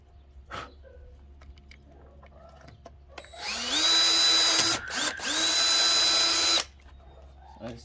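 Power drill boring through a plastic grill insert for a Can-Am X3 off-road vehicle, running in two loud, steady whining stretches separated by a brief stop, with a few clicks before it starts.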